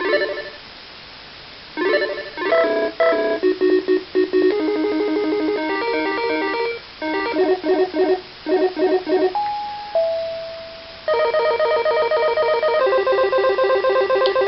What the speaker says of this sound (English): So let's just go through some of the ringtones.